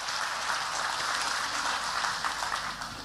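A church congregation applauds steadily, a dense wash of clapping holding at an even level throughout with no voices on top.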